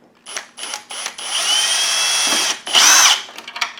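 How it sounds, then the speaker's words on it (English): A power drill bores a hole through a Spirit Halloween 80%-size Ghostbusters proton pack ion arm, with short bursts of whirring followed by a sustained loud drilling run and a final high-pitched burst, close up. "get the drill through there, go ahead and punch the hole"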